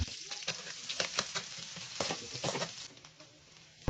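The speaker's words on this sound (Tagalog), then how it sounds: "Sunod is magisa na tayo ng sibuyas at saka ng bawang" Onion and garlic sauté in a pan for chicken calderetta, giving a steady close sizzle with bursts of crackle and spoon-stirring scrapes and a sharp knock at the very end, no voices.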